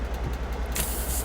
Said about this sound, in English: Handbrake.